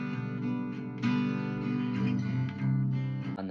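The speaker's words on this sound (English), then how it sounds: "this acoustic guitar is double tracked, hard left and right" A double-tracked acoustic guitar, panned hard left and right, plays steady strummed chords with a bright, full sustained sound and no voices over it.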